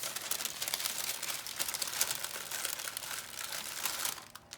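Parchment paper is crumpled and folded up close by hand, giving a continuous crisp crackling and rustling that keeps going before easing off at the end.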